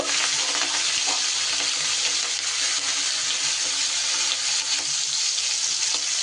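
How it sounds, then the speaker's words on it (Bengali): Prawns fry in hot oil with a loud, steady, close sizzle and crackle, a constant bright hiss with occasional small pops and no talking. "তেল গরম হয়ে গেছে, চিংড়িগুলো ভেজে নেব"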